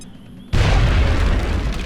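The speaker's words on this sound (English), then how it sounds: "I've got another HE grenade ready to go. Throwing grenade." An HE grenade detonates in XCOM: Enemy Within, a sudden loud boom after a quiet moment, followed by a heavy, rumbling blast that sustains and slowly fades.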